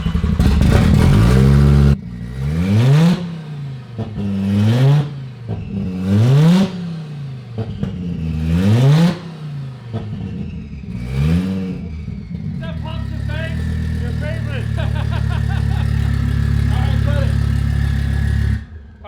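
An Audi RS3 fires up inside a garage and gets blipped in several sharp, loud revs that rise and fall, then settles into a steady, rumbling idle, with voices now and then.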